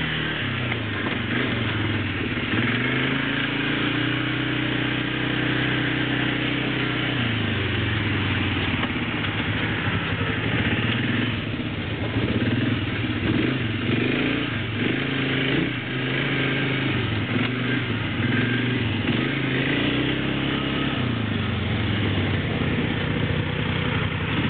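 Four-wheeler ATV engine driving on a road at up to about 40 miles an hour, a continuous close, loud engine drone with wind noise, its pitch rising and falling as the throttle shifts.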